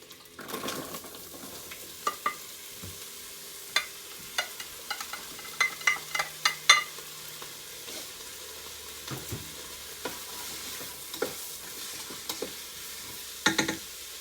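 Onions frying in oil for a green coconut chicken curry, a steady sizzle broken by repeated clinks and scrapes of a spoon stirring the pan, with no talking.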